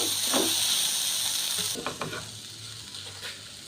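Minced beef cooking in a pan, a bright close sizzle that suddenly drops as if covered, followed by a few scraping stirs and clinks against quieter frying.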